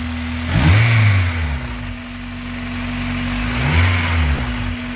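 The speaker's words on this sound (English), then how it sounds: "Rev it up." Honda Civic EP3 Type R with a Tegiwa induction kit revving from idle: two sharp throttle blips, one early and one near the end, each rising and falling back to a steady idle, close and loud with no talk.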